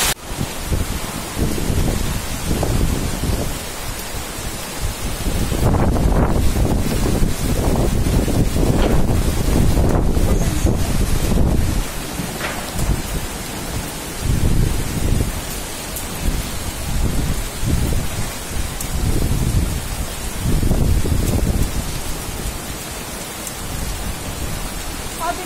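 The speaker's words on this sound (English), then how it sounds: "Hailstorm aa raha hai." Heavy rain and gusting wind during a hailstorm in Gangtok, Sikkim, a dense steady roar with bursts of wind buffeting the microphone and surges of louder downpour, no speech.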